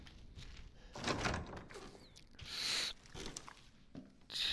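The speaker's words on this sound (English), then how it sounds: "let's go try that new door real quick." A door opens in the Resident Evil 7 midnight demo, giving a few soft thunks and a creaking slide at moderate distance over dull background ambience, with no talking.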